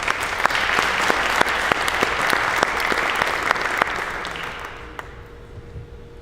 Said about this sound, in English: Everybody give Pablo a round of applause.